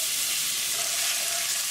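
Garlic sizzles in hot olive oil with cumin for a potato curry, a steady close hiss of frying across the short stretch with no talk over it.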